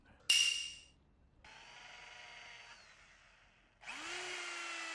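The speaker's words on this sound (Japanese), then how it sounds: "手持ちのドリルが7ミリしかなかったので同じ直径なんですけど、これで穴を開けてみます。" A handheld power drill with a 7 mm bit bores into a titanium alloy tent peg: a sharp bite, then a steady mid-pitched whine, and a final rising spin-up, all close and alone.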